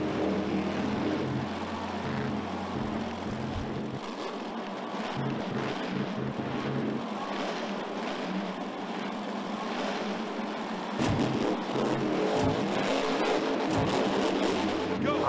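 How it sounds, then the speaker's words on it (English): Lucas Oil monster truck engine in a Monster Jam racing video game, a loud sustained roar with steady revving and a drop in tone partway through, running continuously without talk. "we're going to have to use the Lucas Oil monster truck"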